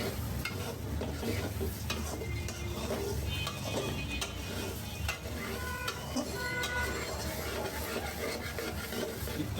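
Eggplant pieces, cut small and thin, sizzle steadily in a pan while being stirred, with a continuous close frying hiss and occasional scrapes of the utensil throughout.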